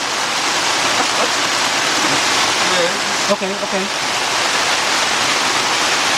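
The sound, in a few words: rain coming down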